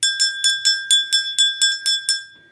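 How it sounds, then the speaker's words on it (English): A psychic's handheld bell rung during a tarot-style reading, about ten bright metallic strikes in a quick steady rhythm, each ringing briefly before the next, close and clear with no talking. "This is my bell."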